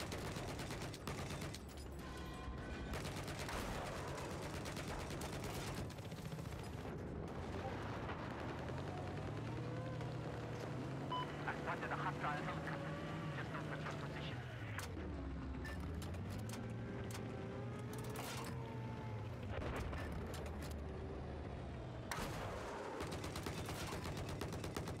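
Gunfire in the video game Battlefield, dense continuous bursts of shots and heavy explosions, loud and close, with voices talking over the battle throughout.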